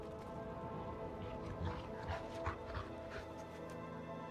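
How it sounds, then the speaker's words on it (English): A wolf in the video game Diablo 4 gives soft whimpers and faint yips over a steady game ambience, fairly quiet and with no talk. "Is this the same wolf?"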